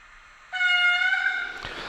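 A Fleischmann DCC sound model of a DB ICE class 411 electric multiple unit sounds a sustained horn blast, a steady chord-like tone lasting about a second before fading with a click.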